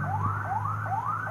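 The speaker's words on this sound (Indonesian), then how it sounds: "ini ambulan lagi lewat, teman-teman." An ambulance siren wails past a driver on the road, loud and near. It repeats rising sweeps in a steady cycle over a low engine hum, with no voices.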